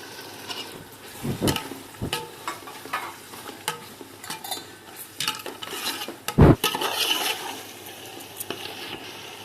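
Biryani masala, rice and salt being stirred together in a pot, with scattered scraping and clinking of a spoon against metal, one sharper knock midway, and no talking.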